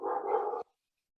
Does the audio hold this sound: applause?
no